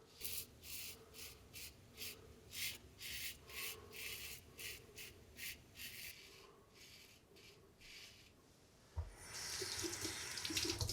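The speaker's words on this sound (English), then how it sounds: "I'm going to fill this bowl up real quick." A water tap runs into a bowl, giving a soft steady trickle and splash throughout, heard close and fairly quiet, with rhythmic rubbing noises over it and a louder gush of water near the end.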